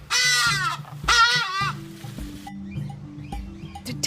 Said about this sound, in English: The peaceful sound of birds in the trees.